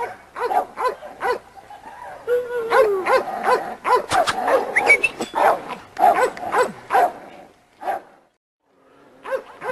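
Pit bull dogs in a kennel yard bark and yip in rapid, overlapping bursts, loud and close, with some whimpering and a short pause near the end.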